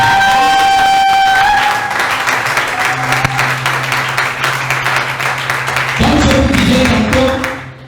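Congregation at a French-language church healing prayer service applauding and cheering for Jesus, a loud sustained wash of clapping and crowd noise with tonal music and held notes underneath throughout.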